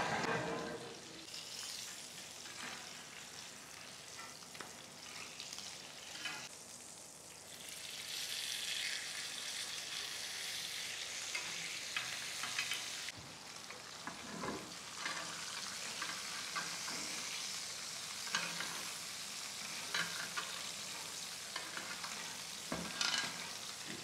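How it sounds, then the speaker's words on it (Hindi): Beef steak frying in a pan over a low flame, a steady close sizzle and crackle running the whole time with occasional stirring or turning noises, no talking. "मीडियम रेयर स्टेक अगर आप बना रहे हैं, फिर आपने अपना फ्लेम जो है वो लो कर देना है और 8 मिनट आपने इनको कुक करना है साइड्स चेंज करते हुए।"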